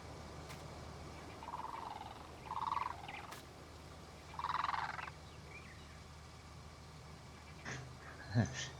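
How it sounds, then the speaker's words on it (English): A blue crane on a South African farm gives three short, rasping, croaking calls a few seconds apart, faint and somewhat distant over a low background hum, followed by a couple of brief clicks. "If you ever wondered what makes that sound here in South Africa, it's called a blue crane."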